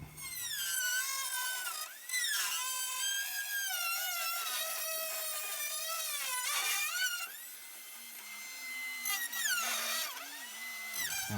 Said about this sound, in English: So I'm going to use the Dremel, cut this out